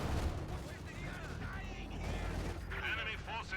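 Tank cannon fire in Company of Heroes 2, a T-34 caught in a counter shot, comes as dense low booming battle noise that rumbles steadily through the whole stretch, with talk running over it.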